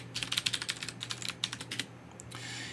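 Rapid, close keystrokes on a computer keyboard as a root password is entered over SSH, about twenty light clicks in a quick irregular burst, then a brief soft rustle.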